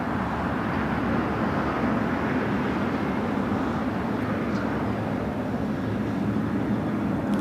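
An American Airlines Boeing 737 MAX 8 jet takes off from runway 25R at Los Angeles International Airport, heard as a steady, distant broadband engine roar that holds at an even level throughout.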